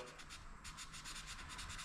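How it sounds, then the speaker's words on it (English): Soft, rapid back-and-forth rubbing strokes, close and quiet, like light hand sanding, taking a paint smudge off a smooth surface. "I'm just sanding it off is all I'm doing"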